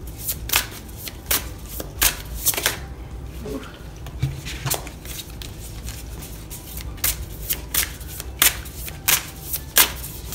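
Tarot cards being shuffled by hand, a series of crisp riffling bursts and soft taps repeating in a fairly regular rhythm, close and clear, with no talking.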